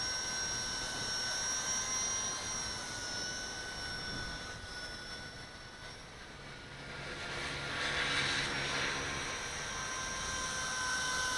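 A Blade 200 SR X radio-controlled helicopter hovers outdoors in wind, its steady high rotor and motor whine swelling and dipping slightly as it wobbles, heard alone and fairly close.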